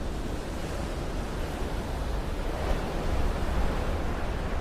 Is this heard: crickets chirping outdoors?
no